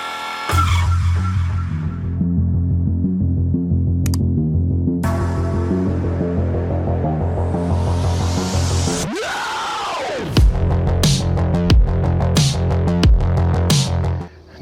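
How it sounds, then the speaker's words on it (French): Chainsaws cut wood nearby, a loud steady engine drone that revs and dips, with sharp high bursts in the last few seconds as the blade bites. "Des charmants monsieur qui ont décidé de prendre leur vendredi pour faire de la tronçonneuse, pour faire du bois"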